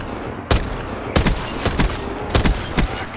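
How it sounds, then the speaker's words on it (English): Gunfire rings out in the Quiet Cosmos custom map of a video game: a handful of loud, sharp shots and short bursts at uneven intervals over a low rumbling background. "these bullets are gonna rip through lots of you"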